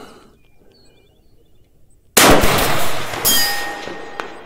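A single loud shot from a Kalikey bolt-action AR rifle fired outdoors, a sharp crack after quiet handling, followed by a long ringing decay and a faint distant metallic ping.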